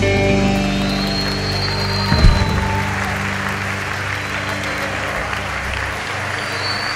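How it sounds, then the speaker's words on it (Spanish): Applause from a concert audience breaks out as the final sustained notes of a Spanish-language song end, settling into a steady, full clatter of clapping that continues to the end. "Fuerte aplauso"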